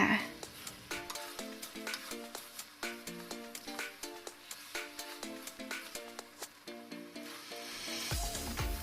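Sugar sizzling in a pan while coconut for Chiang Khan-style candied coconut is stirred, a soft, steady fizzing crackle with rhythmic scraping strokes repeating about twice a second, close and quiet.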